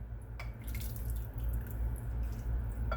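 Broth and vegetables being ladled out of a pot, soft wet drips and light liquid splashes over a low background hum, quiet and close.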